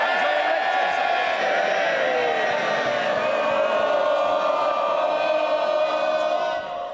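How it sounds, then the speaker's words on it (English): MPs in the House of Commons cheering loudly and continuously during a Spring Budget statement, a sustained roar of many voices that fades only at the very end. "the biggest day in the House, and you want to carry on cheering?"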